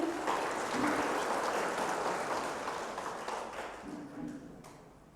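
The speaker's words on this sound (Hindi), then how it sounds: "और एक बार सभी तालियां देंगे।" An audience at a spiritual welcome session gives a round of applause, a broad wash of clapping that swells early and gradually fades over several seconds.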